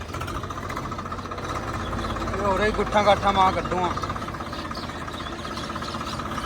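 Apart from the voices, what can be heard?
tractor engine running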